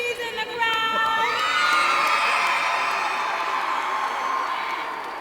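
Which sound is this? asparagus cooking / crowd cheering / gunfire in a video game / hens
crowd cheering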